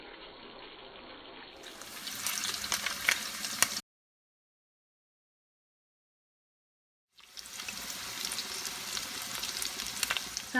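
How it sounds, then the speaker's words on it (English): Homemade Italian meatballs fry in a generous amount of oil in a pan, giving a steady close sizzle that cuts to silence partway through and then resumes, with no talking. "So I'm using a little bit more oil to fry these in."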